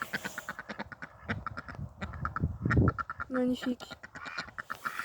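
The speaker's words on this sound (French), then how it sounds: "Alors là, les canards de Saxe." Saxony ducks quack in rapid, repeated bursts close by, while a voice speaks briefly over them.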